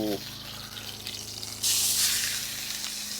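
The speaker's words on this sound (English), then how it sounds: "Nice hot sear on there, man." Serrano peppers hit a very hot pan and sear with a close sizzle that jumps sharply louder and brighter partway through, then keeps hissing steadily.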